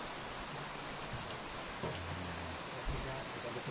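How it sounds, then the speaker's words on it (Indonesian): Rain falls steadily during an outing on the Riam Kanan, a constant soft hiss of drops throughout, with faint low murmurs and a few brief thumps underneath. "Oke, cuacanya hari ini hujan lah."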